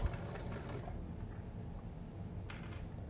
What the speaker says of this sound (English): if your machine gets stuck, you can use your hand wheel or change your needle